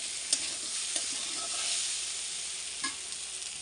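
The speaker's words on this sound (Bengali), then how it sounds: "এখানে মশলাগুলো দিয়ে দিয়েছি, আদা জিরা আর হচ্ছে একটু ঝালের জিরা, কিন্তু এখন ভালো করে ভেজে নেব।" Ginger and cumin spices fry in a pan with a steady, fairly loud sizzle, punctuated by a few sharp clicks from stirring; no voices.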